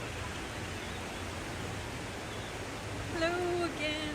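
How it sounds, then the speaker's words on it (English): A stream at Gatlinburg SkyPark in the Smoky Mountains rushes steadily with a broad, even hiss. It holds at a moderate level throughout, and a brief voice rises over it near the end. "I love the sound of the water."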